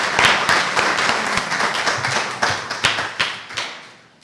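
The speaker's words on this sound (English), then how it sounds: "I would like to give them a round of applause" A crowd at an Emancipation Day awards ceremony applauds the Montserrat National Trust, a dense burst of clapping that thins out and fades over a few seconds.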